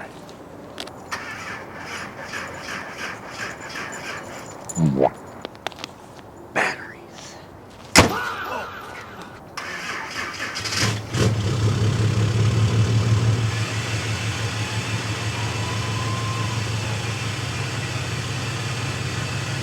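A deleted Cummins 6.7 diesel pickup engine cold-starts after two weeks sitting through a deep freeze. A few clicks and a short crank lead to the engine catching and settling into a loud, steady, rumbling idle, with brief talk early on.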